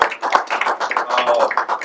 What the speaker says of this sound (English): Please give these guys a round of applause.